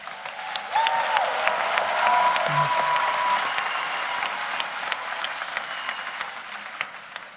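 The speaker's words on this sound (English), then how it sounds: "Let's give them all a round of applause." An audience applauds at a Rutgers School of Social Work convocation ceremony, a steady, sustained wash of many hands clapping in a large hall, moderately loud and continuous for several seconds.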